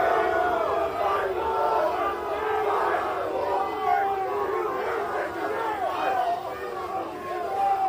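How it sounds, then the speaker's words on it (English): College-age fans at an airport boo and jeer football coach Lane Kiffin, a continuous chorus of overlapping yells and howling voices rising and falling across several seconds. "they're flipping him off, booing him on the way out in the airport"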